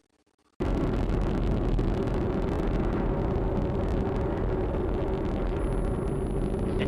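An Atlas rocket roars during launch ascent, a dense, steady, loud rumble that bursts in after a brief quiet start and holds without a break, with no voices.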